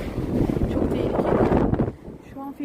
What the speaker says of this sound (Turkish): feci bir rüzgar var